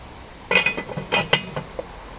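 A pot set back onto a Big Green Egg ceramic grill gives a short run of close metallic clanks and clinks, a few sharp knocks spread over about a second and a half.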